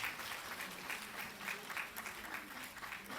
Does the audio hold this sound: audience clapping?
yes